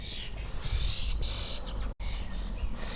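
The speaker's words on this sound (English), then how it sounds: "we're being attacked by birds, and there's a big hawk above the birds, so in the background, wildlife is happening" Birds chirp and call outdoors with a hawk circling overhead, a steady busy chatter of calls filling the background, loud and close, with a brief dropout near the middle.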